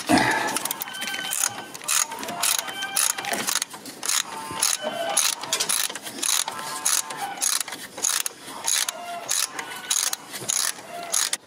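Mechanical clicking and ratcheting as the tensioning pulley is taken off a Toyota Land Cruiser 80 with the 1HD-T diesel engine during a timing belt change, a dense run of close metallic clicks lasting throughout.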